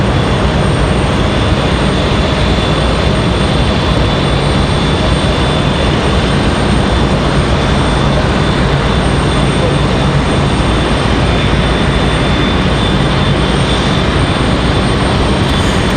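A Frontier Airbus A320neo jet airliner departs Raleigh-Durham International, producing a loud, continuous, broadband engine roar that holds steady and dominates the scene without pause.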